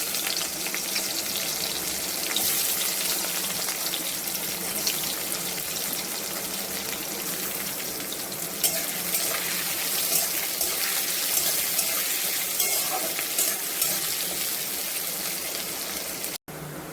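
Chopped onions sizzle steadily in hot oil with a pinch of sugar, a dense continuous frying hiss that holds close and loud throughout, with a few light stirring scrapes and no voices.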